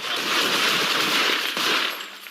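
Police gunfire during a shooting at a car, heard as a rapid burst of crackling shots that continues for about two seconds, sharp but somewhat distant and reverberant.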